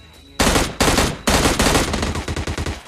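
Shotgun blasts in a video game: three heavy booming shots spaced apart, then a faster string of loud bursts, all close and punchy with no talk over them.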